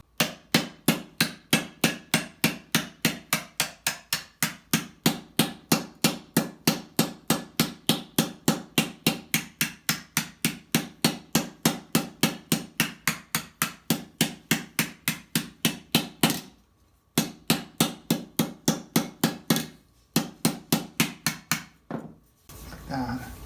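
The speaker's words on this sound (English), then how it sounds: "This little crupper plate here, I'll give it a rough hammering out too." A steel armor crupper plate is roughly hammered out on a metal surface: loud, close, evenly spaced ringing blows at about three per second, continuing with a few brief pauses between runs.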